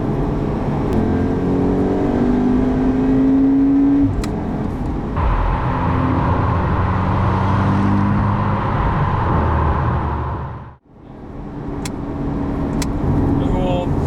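A 2019 Volkswagen Golf R hot hatch accelerates hard, its engine note climbing through the gears with a shift partway through and a sharp drop in sound near the end before it builds again, loud and heard from inside the car.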